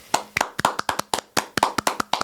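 A small group claps together at a studio sports-talk show opening, a dozen or so crisp, close, slightly uneven claps in quick succession with no talk over them.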